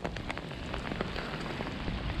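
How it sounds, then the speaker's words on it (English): Steady rain falls onto open water during a fishing trip, a dense, even patter of drops pattering close by with no talk. "the wind's not here, it's just the fucking rain now"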